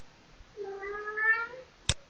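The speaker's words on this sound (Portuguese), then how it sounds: "Essa é a participação do meu gato." A pet cat gives a single drawn-out meow, clear and fairly close, followed by a short sharp knock; no one speaks.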